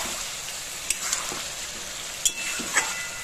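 Pre-fried potatoes dropped into hot spiced oil sizzle steadily, a continuous bright hiss with a few sharp clinks of utensil against pan.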